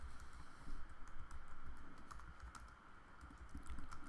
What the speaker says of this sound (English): my typing is slow because I'm typing around a microphone